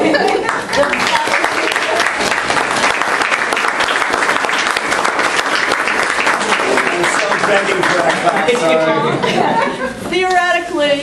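An audience at a Holmdel candidate forum claps loudly and steadily for most of the stretch, with chuckles and murmured chatter mixed in. As the clapping fades near the end, a voice begins speaking.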